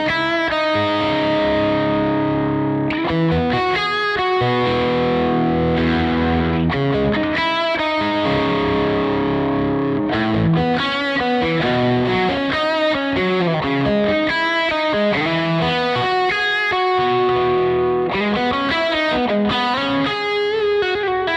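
An electric guitar played through a valve tube drive pedal with the gain set halfway, giving a continuous, moderately overdriven crunch of chords and riffs, loud and steady throughout with no talking.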